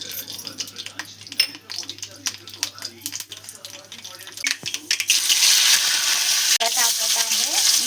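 Mustard seeds and curry leaves sizzle in hot oil: close, crackling frying with stirring clatter, swelling into a louder steady hiss partway through, under occasional talk.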